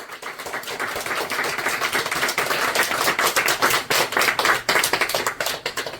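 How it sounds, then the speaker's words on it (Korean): An anniversary ceremony audience gives sustained applause, many hands clapping in a dense, slightly uneven patter that swells and stays strong for several seconds with no talk over it. "김우선 선생하고 조명자 선생을 위해서 격려의 박수를 보내줄 것을 부탁드립니다"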